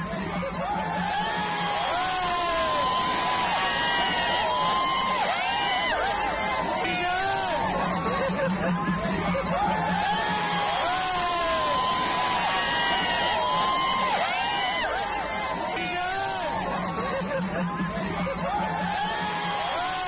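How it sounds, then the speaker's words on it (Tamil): A large crowd of Congress workers and tribal people cheers and whoops continuously at the Bonalu festival, a dense roar of shouting and voices with no quiet moments. "அப்போது அங்கு கூடியிருந்த காங்கிரஸ் தொண்டர்களும் பழங்குடிகளும் ஆரவாரம் செய்த வீடியோ"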